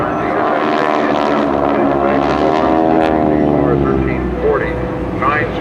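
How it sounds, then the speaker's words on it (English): A Skytypers airshow plane at Willow Grove, powered by a supercharged nine-cylinder R1340 radial engine of 600 horsepower, drones loudly overhead with a steady throbbing propeller note as it passes, with talk over it. "R1340 9-cylinder supercharged radial engine is capable of producing 600 horsepower"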